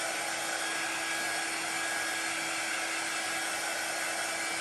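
A hair dryer used as a crafting tool blows with a constant, loud airy roar that stays unbroken from start to finish.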